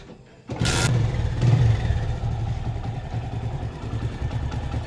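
A TVS Star City Plus motorcycle engine catches with a sharp burst, then settles into a steady, close, loud running idle with a brief rise in revs.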